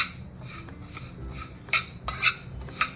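Spoon scraping and clinking in a pan while roasted mukhwas ingredients are mixed together, a few sharp metallic taps and scrapes over low kitchen hum, close and quiet.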